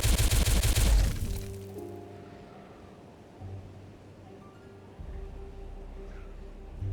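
Explosions go off in the beaver city-building game Timberborn: a rapid burst of loud booms in the first second, then a fading rumble with lighter game tones and a second, softer blast later.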